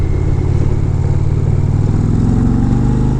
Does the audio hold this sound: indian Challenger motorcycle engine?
yes